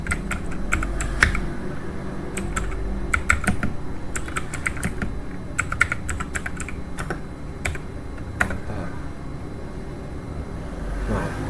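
Rapid keystrokes on a computer keyboard while configuring a network switch for VLAN trunking, clicking in irregular bursts with short pauses over a steady low room hum.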